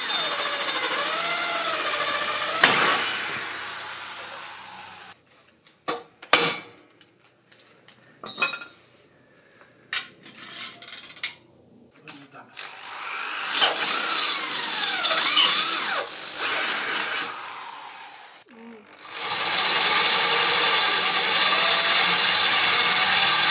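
Power tool cutting metal on a trailer during a trailer repair, loud bursts of grinding or sawing at the start and again in long stretches later, separated by quieter clanks and knocks of work.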